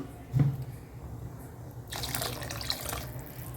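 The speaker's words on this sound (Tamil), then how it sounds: "இன்னும் கொஞ்சம் தண்ணி ஊற்றிக்கலாம்" Water runs steadily from a tap into a cooking pot of green peas kurma for a few seconds, with a brief clunk near the start and a brighter splashing stream in the second half.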